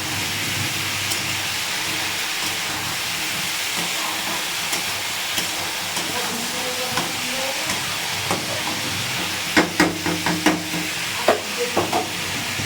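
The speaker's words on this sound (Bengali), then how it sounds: "দিয়ে এটাকে এবার খুব সুন্দর করে ঢেকে দেবো, নাড়াচাড়া দিয়ে ঢেকে দেবো।" Ivy gourd frying in a pan with turmeric, giving a steady soft sizzle and hiss with a few scraping stirs and clinks toward the end.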